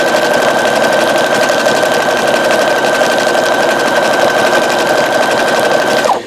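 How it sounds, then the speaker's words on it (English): A Brother CS-8150 sewing machine runs steadily, stitching with a fast, even mechanical whir and a constant motor hum, loud and close, alone until it stops abruptly at the end. "let's do one more stitch here"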